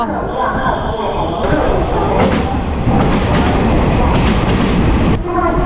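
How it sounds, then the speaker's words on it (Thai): A train rumbles loudly into Taipei Main Station, a dense roar of wheels and rails with clacking, with a person talking over the noise. "โอ้ยรถไฟมาแล้วทุกคน"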